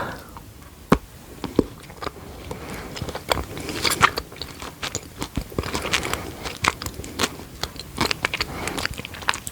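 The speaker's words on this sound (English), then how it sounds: "It's got like crunchy bits inside, which I'm guessing is toffee." Close, loud crunching from someone biting and chewing chocolate with crisp toffee bits, irregular snaps and crackles throughout with no talking.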